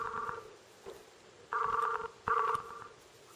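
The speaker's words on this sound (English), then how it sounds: "I'm calling him over Skype. So here goes." A Skype call rings out on a Nikon Coolpix S800c camera, with three loud, steady electronic ring bursts separated by short pauses and no voices over them.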